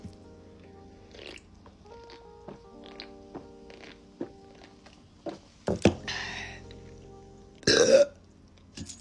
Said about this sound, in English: Let's see how much I burp.